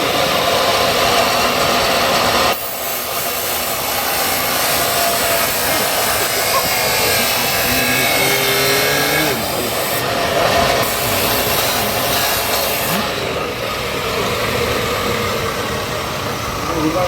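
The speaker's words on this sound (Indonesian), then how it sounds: "Nah, pemotongan menggunakan mesin gerinda, pemotong besi." An angle grinder cuts iron during the destruction of seized evidence, giving a loud, continuous harsh grinding and rasping that shifts in pitch as the disc bites, with brief dips between cuts.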